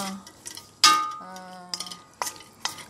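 Duck legs are stirred in a marinade with clinking utensil strikes against a bowl: several sharp, close taps and scrapes with brief ringing tones, separated by short pauses.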